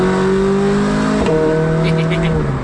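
A McLaren sports car engine, heard with the rear window down, roars and revs loudly, dropping in pitch as it shifts, with a brief burble midway and road noise throughout.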